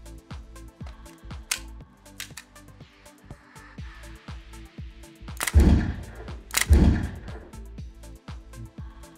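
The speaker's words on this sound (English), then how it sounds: "will be showing us a three round course of fire" Two loud, sharp simulated rifle shots from a FATS 100MIL firearms training simulator, with a short gap between them, fired against a steady background of rhythmic mechanical clicking.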